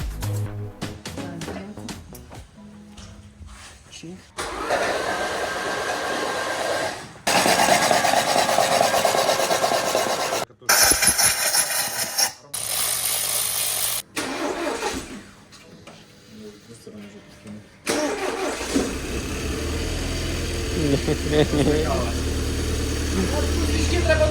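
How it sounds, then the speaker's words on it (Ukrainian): A BMW Z4 engine, just after a starter wiring repair and with oil poured into a cylinder, is cranked in several harsh bursts, then settles into a steady low running rumble. "І от настав момент істини, і ми спробували завести цей двигун."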